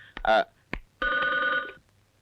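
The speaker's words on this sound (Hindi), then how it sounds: "भाई साहब आपका फोन" A telephone bell rings in a scene from a Hindi film, its sustained trill following a few short spoken words and close by.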